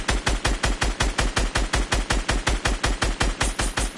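Sustained automatic gunfire in a video game aimed at a house: a rapid, even stream of loud shots at roughly five per second, continuous for the whole stretch with no pauses or voices.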